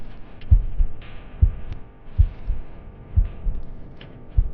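A slow, steady heartbeat thumps low and close, each beat a soft double pulse, repeating about every second over a faint hum.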